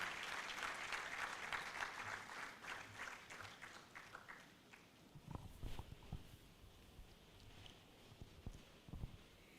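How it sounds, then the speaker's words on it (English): Applause at a public quantum lecture in Ghana, moderately loud at first and then thinning out, followed by scattered knocks and footsteps as panelists settle into their seats. "Can we give a big round of applause as our panelists take the seat?"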